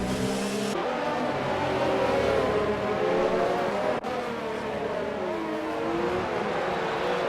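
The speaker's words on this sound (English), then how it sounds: "So we see NGP Racer is the one who actually overtakes K3M." F1 race cars in the F1 2019 video game on the Belgium circuit, whining engines rising and falling in pitch as cars pass and overtake one another, loud and continuous without talk.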